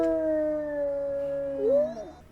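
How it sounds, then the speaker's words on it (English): Several wolves in the game WolfQuest give a long, layered send-off howl, sustained tones held together and sliding upward near the end before breaking off, clear and close with no talking. "Let's go ahead and give them a good send-off howl"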